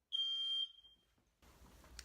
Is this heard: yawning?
no